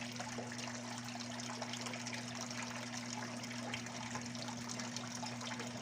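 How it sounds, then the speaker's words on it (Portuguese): Water falls and trickles steadily in a backyard aquaponics setup where fish and plants are raised, a constant splashing wash over a low steady hum with no one speaking. "se você ouvir aí um barulhinho de água caindo, é um sisteminha de aquaponia que eu tenho aqui no fundo de casa"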